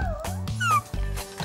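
A person imitating a dog with a string of short yipping, whimpering barks, several quick vocal bursts in an uneven rhythm, close and fairly loud.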